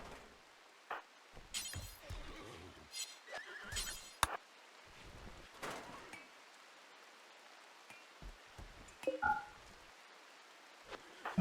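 Horse whinnies and hoof clinks from the RimWorld video game, short scattered bursts over a quiet background, with no talking.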